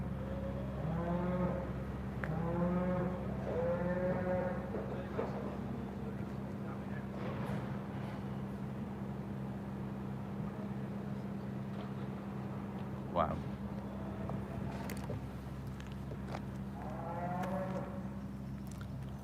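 Cattle moo repeatedly outside slaughterhouse gates, drawn-out cries coming in bursts over a constant low droning hum, with one brief spoken exclamation.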